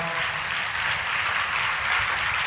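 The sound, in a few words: congregation clapping to praise God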